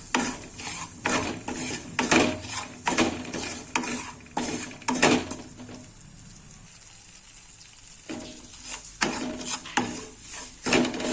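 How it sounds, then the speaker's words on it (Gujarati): Coarse bhakri flour roasts slowly in a little ghee in a pan for Mathura-style sheera, a spoon stirring and scraping in a steady rhythm over a faint sizzle, close and without speech. "ધીમે તાઈ આપણે શેકવાનો છે."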